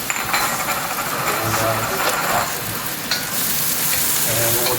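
Onions and garlic frying in hot oil in a pan on the stove for fried rice, a loud continuous sizzle heard close with a few brief clinks and shifts.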